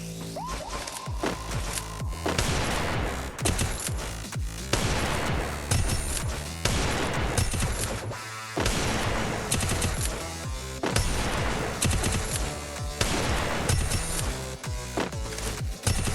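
A gun fires in a mobile shooter game in repeated rapid bursts, loud and close, with short pauses between volleys across the whole stretch and no talking.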